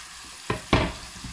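Beef frying in a pan as soy sauce and chopped bell pepper are added for a beef, cucumber and pepper salad. Two sharp bursts of sizzling flare up close, then a fainter one, over a quiet hiss in between.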